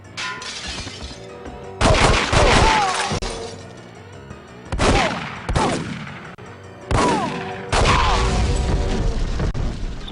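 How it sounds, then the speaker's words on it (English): In The World is Not Enough video game, loud gunshots and shattering booms from exploding fire extinguishers come in several sharp bursts, each with a ringing, decaying tail and short pauses between. "You can actually shoot things like fire extinguishers and they do explode"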